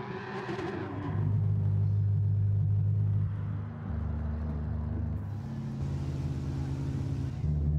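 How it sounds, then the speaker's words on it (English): In a racing video game at the Red Bull Ring, a car makes a handbrake turn, its engine droning loudly and then dropping in pitch as it slows before a lower, steady rumble resumes and builds again. "Very nice handbrake turn."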